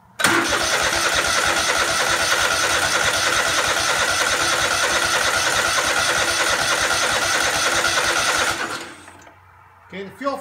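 A Craftsman DGT 6000 garden tractor engine cranks and catches, running at a loud, steady, close chug for several seconds before abruptly cutting off, followed by faint handling noises.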